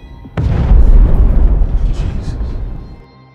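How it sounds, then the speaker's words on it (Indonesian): A loud explosion in a hotel apartment in an action film, a sudden heavy boom followed by a long rumbling roar that slowly dies away. "akibat ledakan tersebut,"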